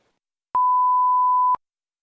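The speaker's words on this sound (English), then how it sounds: "I got a phone call on my other line. I didn't realize that Skype did that." A Skype call-waiting beep signals an incoming call on the other line: a single clean, steady tone lasting about a second, sounding alone against silence.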